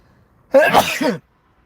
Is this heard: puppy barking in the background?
no